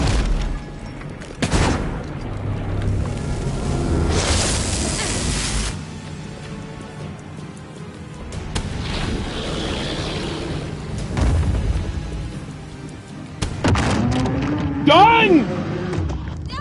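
The hand cannon in the video game Tormented Souls 2 fires heavy booming shots with bursts of gunfire and rumbling blasts throughout, mixed with game effects and speech.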